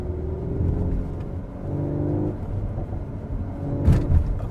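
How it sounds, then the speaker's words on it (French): A Cupra Formentor in sport mode, its engine revving and its exhaust rumbling up and down through a few swells. Nearby and moderately loud, it has no speech. "Elle est capable de créer de l'émotion avec l'échappement"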